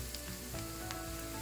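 Garlic paste with turmeric, cumin, pepper and coriander powders frying on a low flame makes a quiet, steady sizzle, with a couple of faint stirring taps, close by and without talk.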